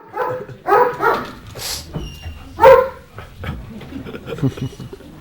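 Police dogs bark and yip in several loud bursts at a county commissioners' meeting, with people talking in the room between the barks.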